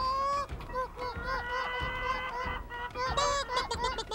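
Voices imitate chicken sounds with rapid squawking, clucking calls, close and lively, repeated in bursts over a few seconds.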